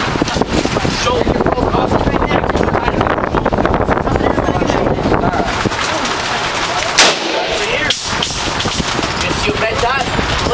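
A gun fired inside a Las Vegas gun store, with loud, dense blasts and crackling throughout against a constant roar, one sharper crack standing out near the end, while people talk over it.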